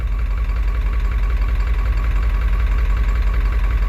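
A rollback tow truck engine idles steadily at low speed with no high idle engaged, a loud continuous rumble with an even knocking pulse and no voices.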